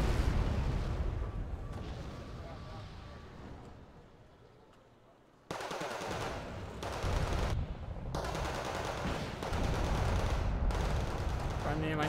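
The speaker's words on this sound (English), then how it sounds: "122 millimeter rockets." Rocket artillery fire from 122 millimeter rockets in the war strategy game Wargame: Red Dragon rumbles and crackles in loud bursts, fading into a quiet lull before abrupt, repeated salvos of rapid explosive blasts return.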